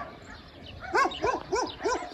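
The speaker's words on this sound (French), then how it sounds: "Les chiens aboient, c'est normal." Dogs bark out in the countryside, a few short barks in a quick rhythm at moderate distance, fairly faint over soft outdoor background.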